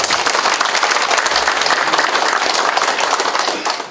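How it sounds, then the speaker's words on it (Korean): Audience applauding at a Korean city government New Year visit to a township office, a dense, steady burst of clapping from a hall full of people, loud and sustained throughout with no talk over it. "시장님께 다시 한번 큰 박수 부탁드립니다."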